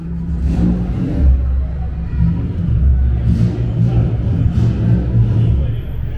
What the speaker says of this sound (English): So there's this, like, CRX coming in right here, of course. Super tricked, super loud CRX